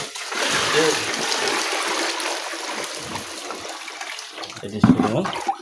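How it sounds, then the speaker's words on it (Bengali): Water is poured into cattle feed in a trough, a continuous splashing gurgle that fades slightly before a brief louder splash near the end. "পানিটা দেওয়া হবে"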